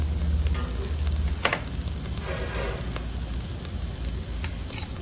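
Onion and tomato frying in oil in a wok give off a steady close sizzle, with occasional scrapes of stirring over a low hum.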